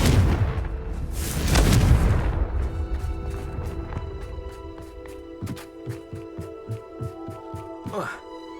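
A Confringo blasting spell from Hogwarts Legacy detonates in a heavy booming explosion that rumbles for a couple of seconds, followed by a rapid series of sharp impacts and crackles, with a voice shouting the spell.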